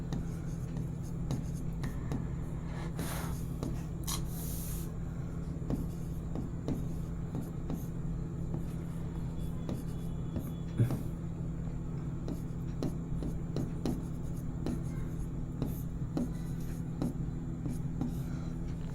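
Pen scratching across paper while a class 10 geometry problem on spheres is worked out, faint repeated strokes and taps over a steady low hum, with no talking.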